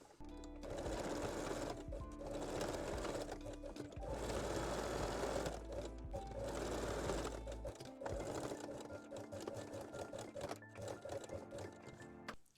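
A sewing machine backstitches a lingerie seam at the crotch and center back, running in several steady whirring bursts separated by brief pauses, close and alone, with a slower, more broken final stretch.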